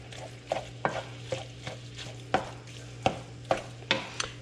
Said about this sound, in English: Pushing down and dragging to the middle of the pan and then chopping kind of a little bit in the middle where the pile is forming.